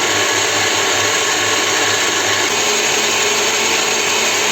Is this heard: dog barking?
no